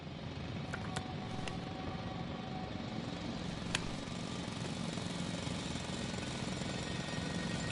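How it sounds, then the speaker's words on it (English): A loud drill runs continuously, a steady, dense, rumbling mechanical drone with a few faint clicks and ticks over it, heard without talk. "It's a drill."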